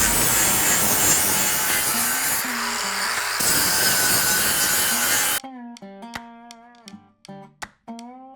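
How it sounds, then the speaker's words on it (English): A flap wheel grinds down an axle tube on a 1955 Buick. The loud, continuous abrasive rasp lasts about five seconds, then stops and gives way to sharp metallic clinks and taps. "now I'm going to spend a minute with a flap wheel trying to make this look just like a bare axle tube"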